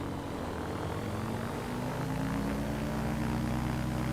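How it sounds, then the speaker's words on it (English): A small propeller engine of a KitFox Speedster Series 7 light aircraft in Microsoft Flight Simulator drones steadily, its pitch and loudness rising slightly as the throttle opens, with no talking. "I'm going to just give it a little throttle here"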